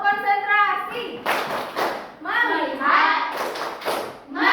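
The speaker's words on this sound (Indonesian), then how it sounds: "Oke, tepuk konsentrasi." A class of children chanting together in unison, broken by bursts of rhythmic group hand claps between the spoken lines during a classroom concentration clap routine.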